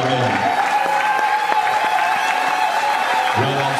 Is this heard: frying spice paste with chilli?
no